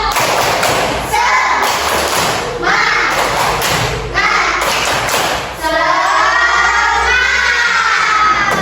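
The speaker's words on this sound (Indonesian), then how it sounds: "Yuk kita tepuk semangat dulu. Tepuk semangat." A classroom of students doing a rhythmic spirit-clapping routine in patterned bursts of claps and thumps, with children's voices chanting and shouting along between the groups, loud and close.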